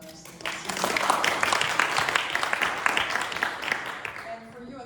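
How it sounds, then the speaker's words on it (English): Audience applause at a Leiden Shorts short film event, steady broadband clapping that swells after a brief start and holds fairly loud across the room, with scattered voices mixed in. "let's give a warm applause to Massih"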